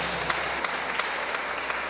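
Steady applause from guests at a girl's quinceañera celebration in Ameyaltepec, a continuous patter of many hands at moderate volume throughout.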